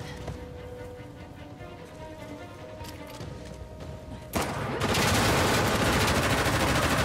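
Gunfire erupts in a firefight in Uncharted: The Lost Legacy, a game's quieter ambience giving way abruptly to a loud, dense, sustained burst of rapid shots that fills the last few seconds.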